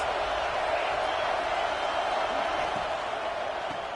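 A steady, dense roar from a stadium crowd in an American football video game, loud and continuous, heard during a big third-down defensive play.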